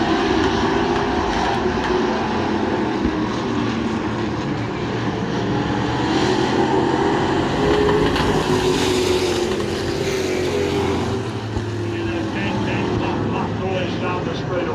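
Race cars roar down the back straightaway of a motorsport track, a dense, sustained engine drone echoing off the wall, close and loud throughout, with speech faintly mixed in.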